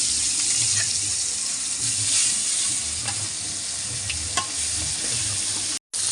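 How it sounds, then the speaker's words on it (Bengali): Katla fish frying one piece at a time in very hot oil in a wok, giving a loud, continuous hissing sizzle with a few sharp crackles and a brief cutout near the end. "এবার এক এক করে মাছগুলি ভেজে নেব"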